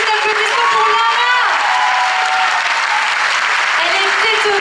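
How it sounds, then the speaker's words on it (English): An audience applauds continuously and loudly at the Miss Côte d'Or beauty pageant, a dense crowd clapping throughout while an amplified voice and music carry on over it. "encore plus d'applaudissements pour Lara."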